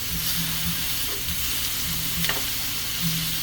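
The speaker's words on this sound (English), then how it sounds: "I want it to get a nice, good sear like that. That's what you're looking for, is a nice, good sear on the meat." Beef sears in a pan for a homemade Beef Barbaro, a loud, continuous sizzle with occasional stirring scrapes and soft pops, close by and free of speech.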